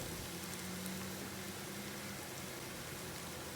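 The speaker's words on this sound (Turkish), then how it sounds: "Arada bir karıştırarak e, patlıcanlar yumuşayana kadar iç harcımı pişiriyorum." Eggplant filling for a soda börek cooking in a pan, a steady soft sizzle and hiss throughout, close and even with no talk.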